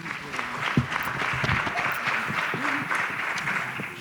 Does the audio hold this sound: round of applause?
yes